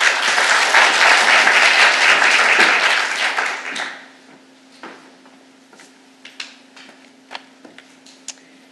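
Audience applause welcoming a speaker to the podium at an academic research center talk, a dense sustained clapping that fades out after about four seconds, leaving a quiet room with a few faint knocks and ticks.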